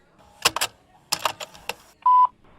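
A voicemail system, with a few loud clattery clicks and button presses, then a short clean electronic tone just before a new message begins.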